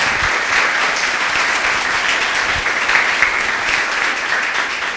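A church congregation claps in praise during a service, a dense, loud, sustained burst of many hands together with no break.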